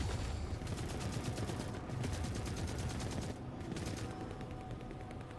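Sustained gunfire from the Forever Winter video game, with sniper shots in the mix: a dense, continuous volley of rapid cracks and bursts at steady loudness, briefly dipping before resuming.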